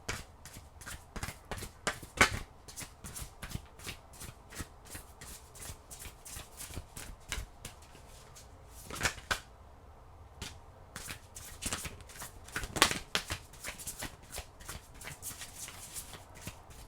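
Tarot cards being shuffled by hand produce rapid, crisp riffling flicks in irregular bursts, close and fairly quiet, with brief pauses between runs.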